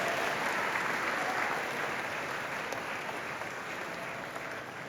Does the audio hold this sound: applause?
yes